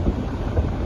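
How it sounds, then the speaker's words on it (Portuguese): Wind buffets the microphone on a river boat approaching the port of Manaus on the Rio Negro, a loud, steady low rumble with no voices. "Um pouco de vento aqui"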